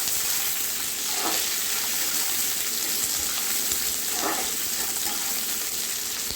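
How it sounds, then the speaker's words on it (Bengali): Onions frying in a pan with garlic and ginger, a steady soft sizzle running throughout, with a couple of brief stirring scrapes and no voices. "পেঁয়াজটা লাল লাল করে ভেজে নিতে হবে।"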